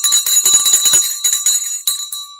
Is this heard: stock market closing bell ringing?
yes